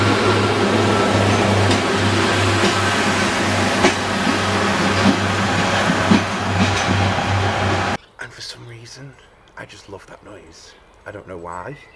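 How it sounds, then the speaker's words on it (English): A Pacer diesel train roars steadily on the rails for about eight seconds, loud and close, before it cuts off to quieter rustling and knocks. "they have this engine roar like no other train"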